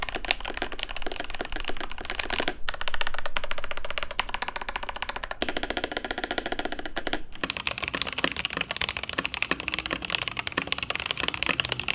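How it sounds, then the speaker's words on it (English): Rapid, continuous typing on a prebuilt mechanical keyboard fitted with TTC Ace switches, with dense, close clacking keystrokes that run without a break across the whole stretch. "This one has TTC Ace, which are supposed to be a thockier switch. I definitely hear the deep sound out of that."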